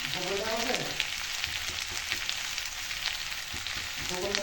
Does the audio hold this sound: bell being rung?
no